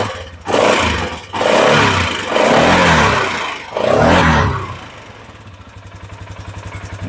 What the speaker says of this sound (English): Let's give her a rev here.